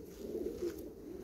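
Racing pigeons coo in a low, steady rolling murmur, close by and continuous, with no voices over it.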